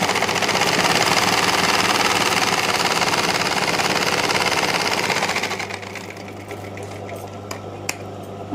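An electric sewing machine stitches blouse fabric in a loud, fast, buzzing run that lasts about five seconds, then stops and leaves a low hum with a few faint clicks.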